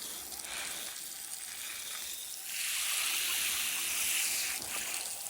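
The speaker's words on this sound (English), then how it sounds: "Let's see this water hose stretch out." Garden hose spraying water outdoors, a steady hissing rush that grows louder partway through and then eases, heard alone and fairly faint.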